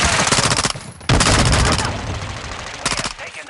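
Rapid bursts of video game gunfire, a loud automatic rattle in dense volleys that drop off briefly and then resume, with a synthetic voice calling out over the shooting.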